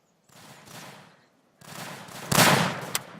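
Rifle fire in the First World War shooter Tannenberg comes as a few sharp gunshots with rolling reports and echoing tails across a battlefield. The loudest crack lands late, followed by one more quick shot.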